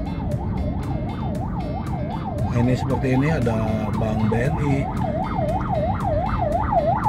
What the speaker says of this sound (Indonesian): Ini ada ambulans juga untuk masuk rumah sakit